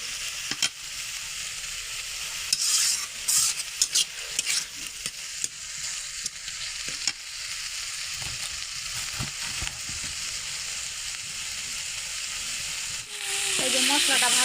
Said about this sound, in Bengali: এই যে মশলাটা ভাজা ভাজা হয়ে গেছে।